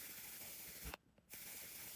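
A makeup setting spray is spritzed in one short burst of hiss close to the mic, with a quiet pause right after it and no talk.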